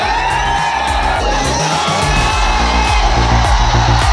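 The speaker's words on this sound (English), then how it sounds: "even as crowds applauded him." A packed crowd of fans at a public function in Haripad cheers, whoops and yells loudly and continuously, a dense roar of many voices close by with music or a PA underneath.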